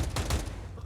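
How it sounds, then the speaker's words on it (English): Grenade blasts in a professional CS:GO match, GamerLegion versus Apeks at a Gamers8 tournament: a dense burst of booming explosions and crackling gunfire under faint caster talk, loud and continuous for under a second. "Love these grenades."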